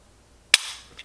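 Glock pistol dry-fire trigger pull: one sharp, close snap followed by a faint lighter reset click about half a second later.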